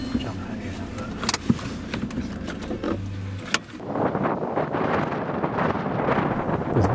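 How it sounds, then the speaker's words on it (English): Strong gusting wind buffets the microphone outdoors at night during a fox shoot, with heavy low rumbling surges that swell after a sharp knock, and a voice is heard under the blustery roar. "Winds gusting over 20 mile an hour"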